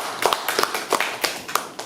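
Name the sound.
applause for the reporters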